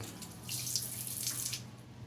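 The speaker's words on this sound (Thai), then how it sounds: "เดี๋ยวจะลองเปิดน้ำดูนะครับ" Water runs steadily from the tap of a bidet spray hose, a soft, continuous hiss and splash close by that swells slightly midway and carries on alone.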